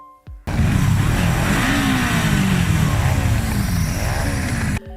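Six special motorcycles ridden by the Tokyo Manji Gang founders roar together, a loud, close, continuous engine drone whose revs rise and fall for several seconds, with no talk.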